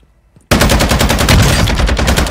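Automatic gunfire in the Call of Duty video game starts abruptly after a brief quiet moment, then a loud, rapid, evenly spaced burst of shots carries on for about two seconds.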